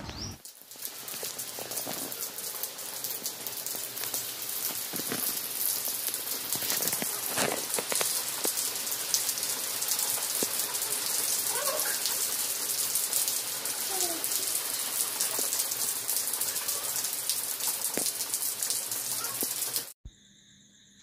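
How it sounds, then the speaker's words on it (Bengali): Morning rain falls steadily and densely on surfaces nearby, a continuous close patter with scattered heavier drops that runs unbroken for about twenty seconds before cutting off abruptly. "আজকে সকাল থেকে বৃষ্টি পড়ছে।"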